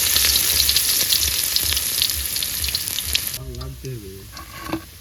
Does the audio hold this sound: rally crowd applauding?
no